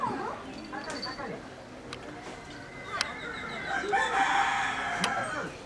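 Chickens cluck around houses near a crumbling village temple, with a rooster crowing loudly toward the end. Scattered bird calls and a voice are heard in the background.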